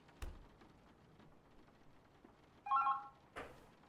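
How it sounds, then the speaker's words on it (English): A telephone rings once in the video game The Berlin Apartment, a short electronic trill over faint rain-like ambience, quiet and with no speech. "Oh, the phone."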